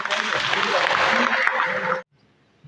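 An audience at a parish event in Baraka applauds loudly and steadily for about two seconds, dense clapping that stops abruptly into near silence.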